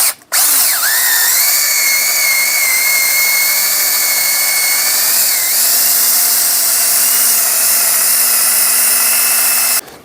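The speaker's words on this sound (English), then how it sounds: "clean out the eye with a attachment that I modified to fit in the drill" A power drill spins a modified attachment inside the eye of a double bit axe head, cleaning it out with a loud, continuous high-pitched whine for nearly ten seconds, dipping briefly in pitch partway through.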